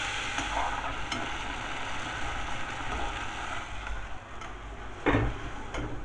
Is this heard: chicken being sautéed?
yes